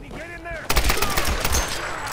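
Rapid gunfire from the video game Tomb Raider (2013), bursting in loudly after a brief quieter moment and continuing as a dense stream of sharp shots.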